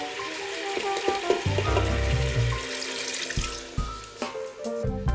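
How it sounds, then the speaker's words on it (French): Teriyaki sauce pours onto chicken in a hot Instant Pot, a loud rushing, bubbling sizzle that swells as the liquid hits and then settles into a softer crackle, no talking. "Je verse la sauce teriyaki."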